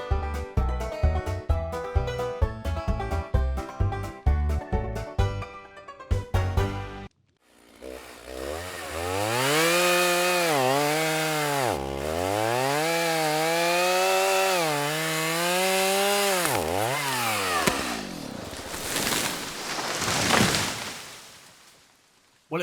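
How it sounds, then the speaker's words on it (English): A chainsaw cuts down a tree in Minecraft Bedrock, a loud, sustained engine whine that rises and falls in pitch as the blade bites, following a stretch of rhythmic tonal game sounds. "Let's go get me chainsaw."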